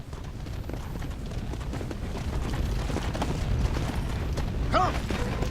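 Horse hooves clip-clop at a steady trot in a video game zombie setting, fairly faint and mixed with creaking tack and low game ambience.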